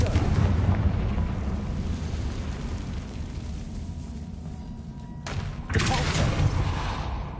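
A Confringo fire spell bursts in Hogwarts Legacy, a heavy, rumbling blast that rolls on for seconds, then a sharp second burst near the end, loud and alone with no speech.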